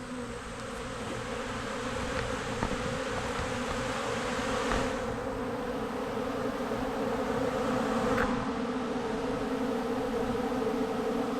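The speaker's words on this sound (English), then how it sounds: "Just to see how many bees are in here." A dense, steady buzz of many bees crowding a feeding station fills the air, continuous and close, with a low droning hum underneath and no voices.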